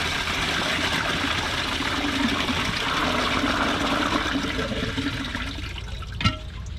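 A toilet flushes away a long wad of thick, non-compacted tissue paper, a steady rushing torrent of water that runs for several seconds, then tails off into a trickle and a short clunk near the end.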